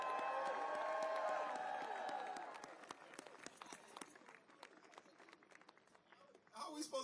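A crowd at an anti-Trump protest in Minneapolis claps steadily after loud voiced whoops and cheers, the applause thinning to scattered claps before a fresh swell of cheering near the end.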